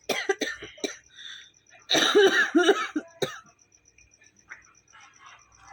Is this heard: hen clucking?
no